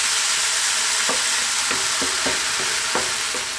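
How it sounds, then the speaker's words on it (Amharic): Steady hiss of onions frying in oil in a pan until brown, with a few sharp scraping clicks from stirring scattered throughout. "ሽንኩርታችንን እንጠብሳለን።"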